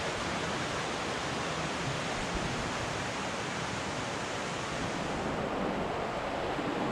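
A river rushes steadily below a trail carved into the rock, giving a constant, dense broadband roar of flowing water with no voices and no change in level throughout.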